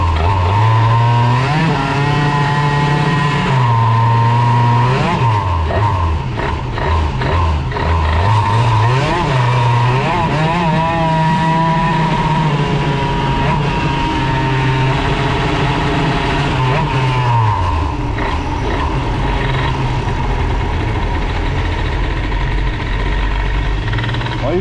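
A Bidalot RF 50 WR moped running on a 20 mm carburettor, its small two-stroke engine droning loud and close with rising and falling revs across repeated throttle blips, with someone talking over it at times.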